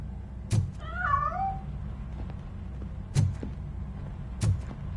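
A cat gives a single clear, rising-and-falling meow, the animal apparently hidden inside a piano, set among a few sharp knocks and thuds in a quiet room.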